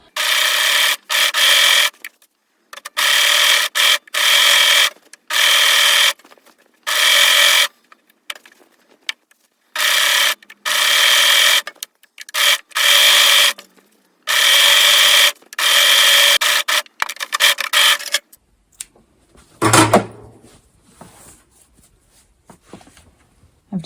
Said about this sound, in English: I've modified the instructions in order to use a serger for a lot of it.